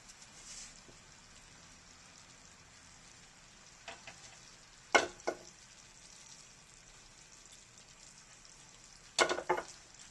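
Sugar and pecans in a pan crackle with a soft steady sizzle, while a spoon scrapes and clinks against the pan in a few sharp bursts.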